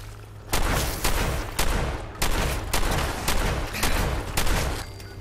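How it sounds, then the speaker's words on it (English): A combat shotgun fired in the video game Fallout 4: about seven loud, booming blasts at a steady, roughly half-second rhythm, each trailing into a rumbling decay. "This thing really isn't doing that much damage for a fucking combat shotgun."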